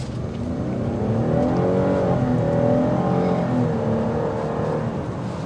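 A 2023 GMC Acadia Denali SUV pulls away from a stop in the middle of a road, its engine building a steady throaty drone with rising pitch, heard from inside the cabin with road noise underneath, no talking.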